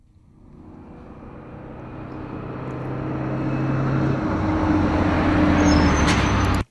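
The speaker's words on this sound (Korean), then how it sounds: "이렇게 지나가는 소리, 도플러 효과" A vehicle passing close by with a clear Doppler effect: a broadband roar swells steadily from faint to loud over several seconds, then cuts off abruptly, with no voices present.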